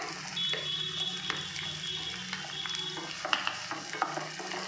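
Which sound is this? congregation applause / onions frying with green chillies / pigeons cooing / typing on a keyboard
onions frying with green chillies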